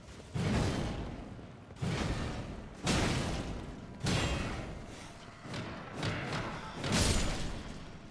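Heavy weapon strikes land on a boss in Elden Ring, a run of about seven loud, dull thudding impacts spaced roughly a second apart, each with a whooshing swing and a decaying rumble, and no talking.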